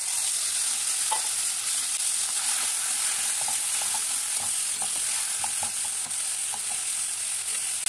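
Grated onion sizzling in hot oil with pointal (potol) for a potol khashi, a steady loud fry hiss broken by scattered clinks and scrapes of a stirring spoon against the pan throughout.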